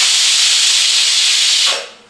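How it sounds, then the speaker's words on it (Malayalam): A pressure cooker cooking egg curry lets off a loud, steady steam whistle that hisses close and strong, then cuts off abruptly near the end, leaving only a quieter tail. "നമുക്ക് ഒരു 2 വിസിലൊന്ന് അടിക്കട്ടെ."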